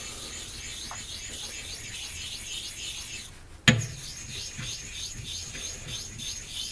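A straight razor honed on a Japanese natural stone: a continuous rhythmic scraping rasp from back-and-forth strokes, with one sharp clack as the blade or stone is shifted partway through.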